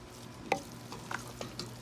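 A spoon stirs apple achar in a pan over low heat, giving a few soft scraping clicks and a faint sizzle, quiet and close with short irregular bursts.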